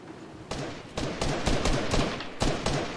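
Gunfire in the video game Fortnite: a rapid series of sharp, loud shots in uneven bursts, close and punchy, with no talking over them.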